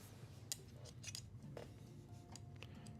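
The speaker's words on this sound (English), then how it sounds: "Super safe pair of scissors." A pair of scissors cuts something off, giving scattered sharp snips and metallic clicks, close but quiet over a low background rumble.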